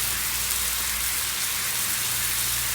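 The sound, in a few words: frozen fish fillets cooking in a pan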